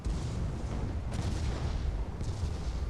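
A heavy carronade cannon fires during a video game battle, with deep booming blasts over a constant roar of ongoing combat and gunfire.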